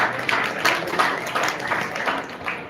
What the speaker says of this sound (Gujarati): તો બધાને આપણે જોરદાર તાળીઓ સાથે વધાવીશું.